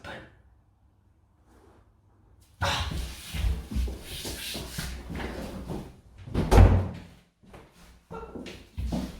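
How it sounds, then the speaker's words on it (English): A door opens abruptly during a stage theatre performance. A sudden clattering burst is followed by shuffling movement, a heavy thud and indistinct voices. "The door is open."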